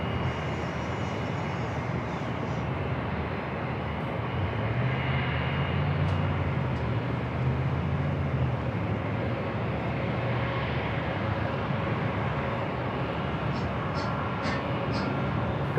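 JetBlue Airbus A321 taking off from runway 27 at San Diego airport, a broad steady jet engine roar at moderate distance, sustained throughout with little change.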